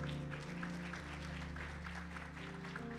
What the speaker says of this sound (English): Would you welcome our guests with a round of applause?